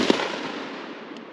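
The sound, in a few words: rifle firing 1942 surplus ammo with a click bang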